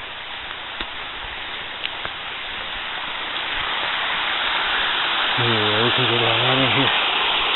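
A creek along the Piney River trail near Spring City, Tennessee, gives a steady rushing of flowing water that swells louder as the walker approaches, with a voice speaking over it.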